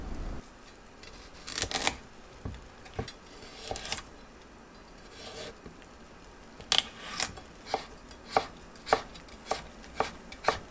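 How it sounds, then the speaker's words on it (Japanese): A knife cuts an unpeeled carrot into thin strips on a cutting board, giving a series of crisp, close chopping taps that settle into a steady, fairly quick rhythm toward the end. "人参は皮付きのまま短冊切りです。"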